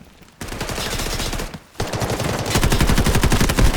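Automatic gunfire erupts in the shooter game Delta Force, loud rapid bursts of machine-gun fire that start abruptly, pause briefly, then resume more intensely, with no talking.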